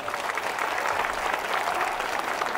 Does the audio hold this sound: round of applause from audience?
yes